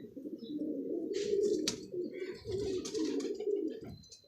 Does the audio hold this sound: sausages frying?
no